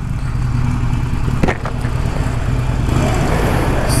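Motorcycle engine revved while parked: a steady, loud, throaty idle-to-rev drone with a brief sharp burst around the middle and a rising, fuller roar toward the end, heard close with no talk.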